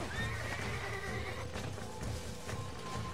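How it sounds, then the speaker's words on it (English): A horse in the Red Dead Redemption video game whinnies over a steady game background, with hoof clip-clops mixed into the constant ambience and no speech. "You get back on your own horse."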